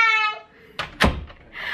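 An indoor door closes with a solid thunk about a second in, preceded by a softer knock and followed by a faint rustle; a short tonal sound is heard at the very start.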